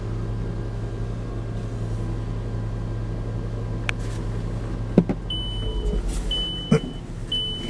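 A Volkswagen Jetta engine idles steadily just after starting with the hood up, a constant low hum with a few clicks and beeping tones partway through.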